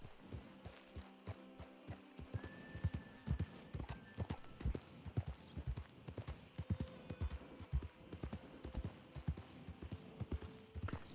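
Steady clip-clop of a gray horse's hooves plodding along in the video game RedM, with a short neigh and some faint background hum; no talking.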